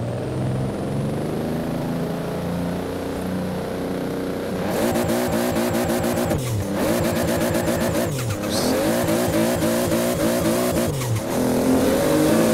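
A human voice imitates a built-up Toyota Supra engine in Forza Horizon 4, loud and close. A steady droning idle gives way to buzzing revs that climb through repeated gear shifts with brief drops between them.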